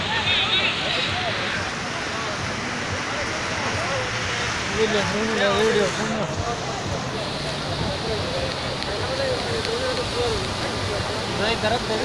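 Sea waves at a beach in Ajman, a continuous loud wash of surf with wind noise on the microphone, and a voice talking over it throughout.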